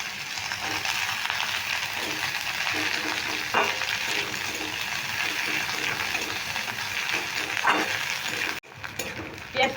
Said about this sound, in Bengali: একটু নেড়ে ভেজে নিলাম